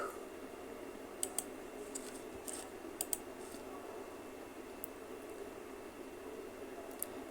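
Someone typing the word Upwork on a computer keyboard: a few quick, faint key clicks in small clusters over a steady background hiss, with no talk.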